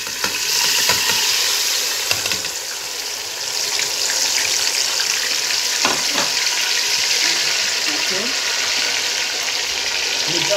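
Onions, fresh pepper and tomatoes for a vegetable soup sizzle and fry steadily in a pot, a constant hiss filling the whole stretch with occasional stirring clicks.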